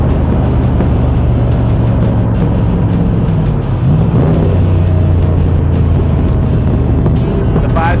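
A 1965 Shelby Cobra replica with a 347 stroker V8, fuel injection and a 5-speed gearbox rumbles loudly and steadily while driving, its deep engine note shifting in pitch midway and rising into a rev near the end.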